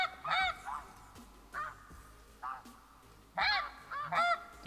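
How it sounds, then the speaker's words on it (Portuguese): Snow geese honk repeatedly in scattered bursts in the hunting game theHunter Classic, several calls overlapping at moments, sounding moderately distant against a quiet background. "Está vindo mais gansos ali, ó."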